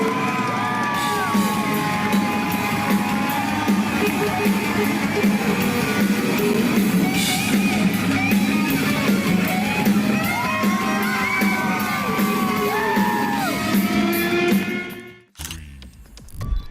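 A concert crowd roars for a boy playing, with sustained loud cheering, whoops and yells that carry without pause for many seconds before cutting off abruptly.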